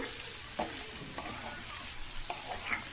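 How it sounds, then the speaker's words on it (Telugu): Mutton pieces fry slowly with masala in a pan over low heat, giving a soft continuous sizzle broken by a few gentle stirring scrapes. "మసాలా అంతా పచ్చివాసన పోయేదాకా వేయించుకోవాలండి. ముక్కలు చెదరకుండా వేయించుకోండి."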